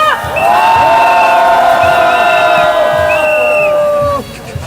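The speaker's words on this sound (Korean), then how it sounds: "호주 브리즈번에서 오신 윤지훈님을 큰 박수로 모시겠습니다" A large outdoor crowd at a snowy winter impeachment rally in Korea cheers and whoops with sustained shouting voices and some clapping, loud and continuous for several seconds before dropping off near the end.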